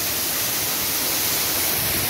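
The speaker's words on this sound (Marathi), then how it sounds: "आणि हा इकडे मस्त असा वॉटरफॉल धबधबा आहे इकडे." A waterfall near Shivsagar: a dense, continuous rushing roar of falling water, loud and steady across the whole stretch, with no voices over it.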